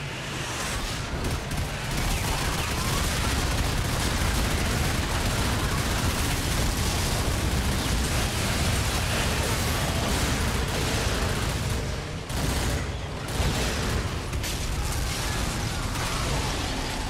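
Twisted Metal vehicular combat plays out in an online 4-vs-4 match, with dense, continuous gunfire and explosions forming a loud, unbroken roar that barely lets up for the whole stretch.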